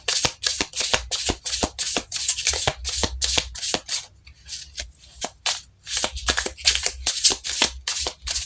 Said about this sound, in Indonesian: kita shuffle kartunya, kita lihat energinya.